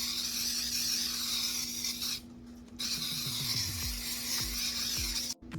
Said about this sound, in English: I'm going to spray this pretty heavy with some baking spray.